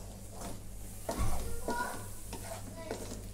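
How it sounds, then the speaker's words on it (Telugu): Garlic ginger paste sizzles softly in a pan while a utensil stirs it in slow, scraping strokes, steady and close. "గార్లిక్ జింజర్ పేస్ట్ ఒక 5 మినిట్స్ కుక్ అవ్వాలి ఫ్రెండ్స్."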